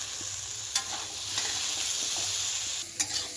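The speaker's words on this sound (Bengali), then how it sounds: "সয়াবিনটাও দিয়ে দিলাম এর সঙ্গে, একসঙ্গে একটু ভালো করে নাড়িয়ে নেব।" Vegetables and soy chunks sizzle steadily in a pan while a utensil stirs them, with a few sharp scraping knocks spaced across the clip.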